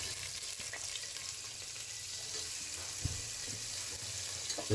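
Chopped onions fry with garam masala for a bamboo-shoot chicken curry, giving a steady low sizzle broken by occasional spatula knocks and scrapes against the pan, close and moderately quiet with no voices.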